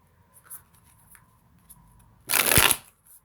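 Tarot cards shuffled once in a short, loud riffling burst near the end, preceded by a few faint soft handling taps, close up with no talking.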